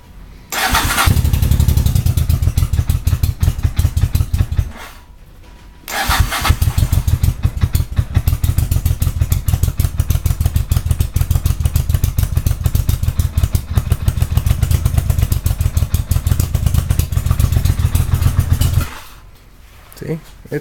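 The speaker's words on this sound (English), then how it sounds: "Here's another cold start." A cold motorcycle engine starts and runs with a rapid, loud, close putter, cuts out briefly, restarts and runs on with revs before falling quiet near the end.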